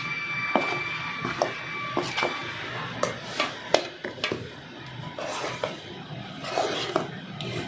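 A utensil scrapes and clinks against a bowl while flour and cocoa powder are mixed into chocolate cake batter, light irregular taps and rubs repeating close by.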